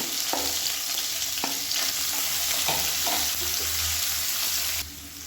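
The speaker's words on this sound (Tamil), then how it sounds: "இப்போ எல்லாமே நல்லா பொரிய ஆரம்பிச்சிது" Sliced onion and green chilies fry and sizzle in hot oil with greens in a single pot, a steady close crackle broken by scraping stirs before the sizzle drops quieter near the end.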